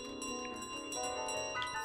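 A bell carried by the goose in Untitled Goose Game rings in a steady, close metallic tone through the whole moment, layered with game sounds and no talking.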